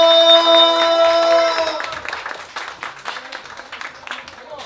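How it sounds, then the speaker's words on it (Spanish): Guests at a nighttime birthday party break into clapping after a brief sustained musical tone, the applause continuing as a scattered, moderately loud patter for a few seconds. "¡Fuerte el aplauso!"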